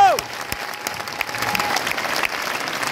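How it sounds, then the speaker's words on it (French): At the Salon du Chocolat, an audience claps steadily in a full, even round of applause, with a short tonal sound at the very start. "vous pouvez l'applaudir bien fort"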